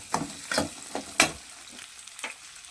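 Onion frying in a pan, with soft bursts of sizzle and stirring scrapes rising and fading at irregular intervals, close and quiet with no talk.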